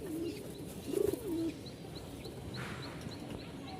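Pigeons coo at a Bangladeshi pigeon market: a few close, soft coos in the first second and a half, over a steady murmur of market background noise.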